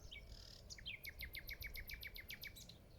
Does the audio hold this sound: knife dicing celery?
no